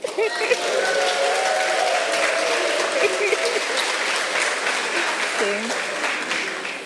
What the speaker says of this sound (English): Raise your applause